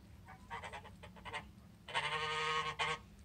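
A male Toulouse goose honks repeatedly, a short burst of harsh calls followed by a longer, louder run of honking close by.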